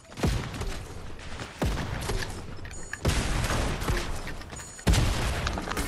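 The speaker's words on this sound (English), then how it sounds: "Oh my gosh, I got sniped." Loud gunfire bursts from a Fortnite match, several sharp booming shots spaced a second or two apart, each followed by rumbling echo and crackling battle noise, with no talking.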